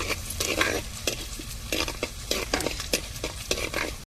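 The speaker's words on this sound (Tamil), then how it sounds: "இப்போ வந்து நம்ம இஞ்சும் பூண்டையும் வதக்கி விட்ருவோம் வெங்காயத்தோடு சேர்த்து" Ginger, garlic and onion sauté in a clay pot, with a steady sizzle broken by repeated scraping strokes of a spoon stirring close and loud.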